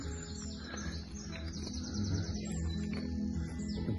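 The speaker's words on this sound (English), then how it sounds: "plenty of different little birds around this area" Small songbirds chirping in woodland at a nature reserve, several light tweets and calls scattered across the scene at moderate distance over a steady low background rumble.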